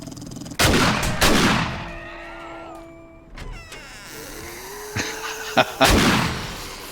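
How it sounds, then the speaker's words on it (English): Shotgun blasting holes through walls in the video game 7 Days to Die, with several loud, sharp booms spaced a few seconds apart, each followed by ringing tones and debris noise, and no talk. "that shotgun just blows up holes in the walls"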